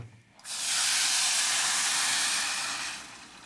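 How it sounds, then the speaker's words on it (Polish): Water is poured onto rice toasting in a hot pan and hits it with a sudden loud hiss. The sizzle holds steady, close by, for about two and a half seconds before it starts to fade. "ryż fajnie się podpraża, tak jak mówiłem. E, można go już zalać wodą."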